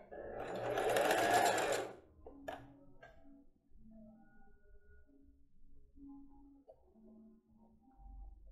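A sewing machine stitches the edge of a pair of children's panties in one loud burst of rapid stitching lasting about two seconds. Quiet handling clicks and soft low hum follow.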